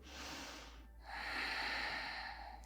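A deep nasal inhalation during a yoga session, soft and close, drawn in two breathy phases with a brief pause between them, with no talking.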